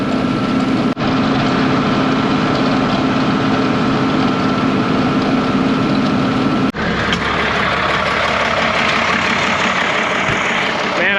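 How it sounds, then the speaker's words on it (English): An old 1980s farm tractor engine runs steadily at a loud, close idle with a constant low rumble and drone, briefly dipping once before carrying on, no talk. "Like these old tractors, they purr like kittens, don't they?"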